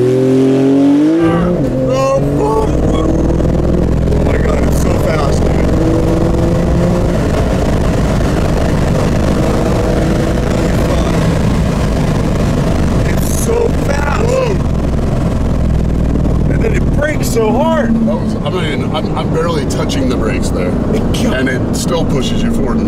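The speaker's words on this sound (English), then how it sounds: "All you gotta do is literally plow the throttle to the ground. Quite hold the brake. And let go." Porsche GT2 RS launching at full throttle on an airfield drag strip, a loud sustained engine roar climbing through the gears with excited shouting from the cabin.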